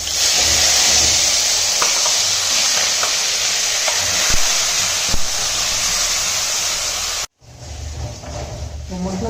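Spices sizzling in a small amount of oil in a home kitchen pan, a steady loud hiss with occasional clicks of stirring, then cutting off abruptly to quieter kitchen sounds near the end.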